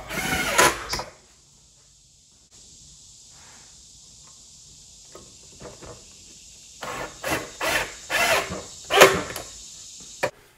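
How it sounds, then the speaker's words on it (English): Pocket screws are driven into a glued wood board with a power drill. Short whirring bursts come first, then a steady high whine, and finally a cluster of repeated bursts near the end. "Here's how I put the pocket screws in after applying a bead of glue along the edge of the board."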